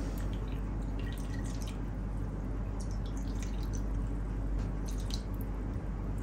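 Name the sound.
pouring pomegranate juice for kal kabab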